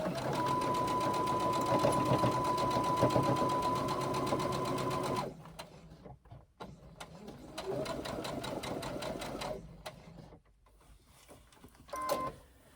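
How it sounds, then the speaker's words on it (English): A sewing machine stitches continuously down the side of a crossbody bag pocket, then stops, leaving softer handling noises and brief shorter bursts. "Start on the right hand side, stitch down the side of the pocket"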